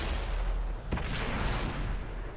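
Tank gun shot in a video game battle, a single deep booming blast with a sharp crack, set against a constant low rumble of engine noise, with no talking.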